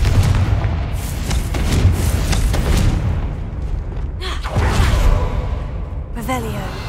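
A Confringo fire spell explodes in Hogwarts Legacy: a heavy booming blast over a dense, rumbling game soundscape, followed by whooshing bursts near the end, with a voice talking over it.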